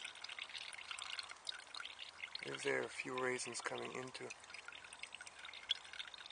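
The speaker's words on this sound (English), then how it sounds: "and pour mostly of the milk inside." Milk pours from a container with raisins into a dough mix at an outdoor mobile kitchen, a steady liquid stream with light splashing that runs beneath someone speaking.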